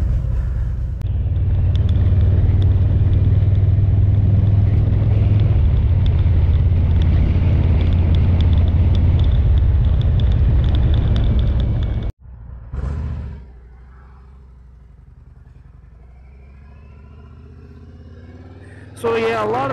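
Loud, steady engine rumble with heavy wind buffeting from a Harley-Davidson motorcycle on the move, close to the microphone for about twelve seconds, then cutting off to a quiet idle-like background.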